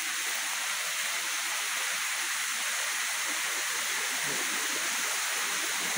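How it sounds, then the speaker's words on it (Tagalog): Busay Falls roars steadily up close, a loud, dense wash of falling water with constant broadband rushing noise and no other sounds standing out. "Dito na kami sa Busay Falls."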